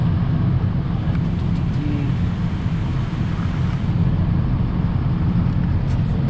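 A 2006 Ford F250 4x4 diesel truck with 193,747 miles idling after start-up, a steady low rumbling clatter, loud and close, with no talk.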